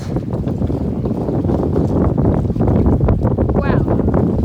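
Strong wind roars and buffets the microphone at a beach dock during a wind storm, with waves and the shaking dock adding a heavy, unbroken rumble; a brief higher squeak rises near the end.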